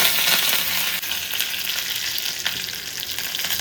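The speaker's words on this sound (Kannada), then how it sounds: "ಎಣ್ಣೆ ಕಾದ ನಂತರ ನಾವು ತೆಗೆದಿಟ್ಕೊಂಡಿರೋ ಸ್ವಲ್ಪ ಸಾಸಿವೆ, ಒಂದು ಅಥವಾ 2 ಬೆಳ್ಳುಳ್ಳಿ ತಗೋಬೇಕು" Mustard seeds and garlic sizzle and crackle steadily in hot oil for a Karnataka mango thambuli, a dense close frying hiss with small pops and stirring scrapes, no voices.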